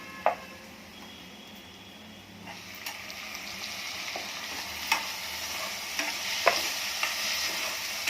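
Golden onion with chopped tomato sautéing in a pan for a quick cauliflower-potato dry vegetable dish, a soft continuous sizzle broken by occasional spatula scrapes and taps, close and quiet, no talking.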